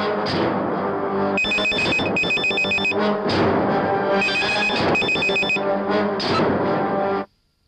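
A telephone rings loudly in bursts of electronic trilling, several repeated ring cycles over steady background, ending abruptly as it stops.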